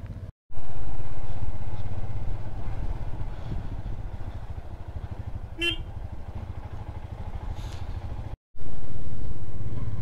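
Motorcycle riding along a Himalayan mountain road toward Kalpa, a steady low engine rumble with wind buffeting, loud and close, with a brief horn-like chirp midway and short dropouts at start and end.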